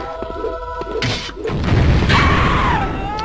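A fire rune explodes under a player in the video game Bloodmage, giving a heavy booming burst with a sustained roaring rumble over a backdrop of game music and effects.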